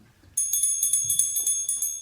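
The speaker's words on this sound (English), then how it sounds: "every time a bell rings, an angel gets their wings" A bell sound effect in a radio play of It's a Wonderful Life rings in a rapid, steady tinkling series of bright strokes, clear and close, starting abruptly and continuing alone.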